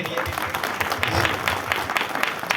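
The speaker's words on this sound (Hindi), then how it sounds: "एक बार जोरदार ताली बजा दे परमेश्वर के लिए।" A church congregation claps loudly in praise at a worship gathering in Hardaag, Jharkhand, a dense, close, steady rattle of many hands lasting a few seconds.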